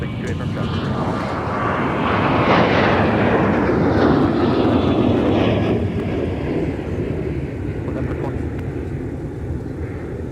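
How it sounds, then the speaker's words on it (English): Sun Country airliner rolling down runway 30 left at Minneapolis–St. Paul airport, bound for Portland, Oregon: a loud, steady jet engine roar that swells around the middle and holds broad and rumbling throughout, with faint radio chatter underneath. "rolling its way down 30 left, is Sun Country off to Portland, Oregon."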